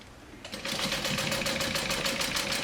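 A sewing machine stitches a bag after a brief quiet start, a fast steady mechanical whirr with an even rapid pulse, loud and close, with no one speaking.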